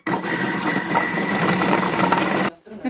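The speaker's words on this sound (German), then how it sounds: "Und das Ganze wird fein miteinander verhäckselt." An electric chopper whirs steadily while finely mincing vegetables with salt for homemade vegetable stock, a loud close motor drone lasting about two and a half seconds before cutting off.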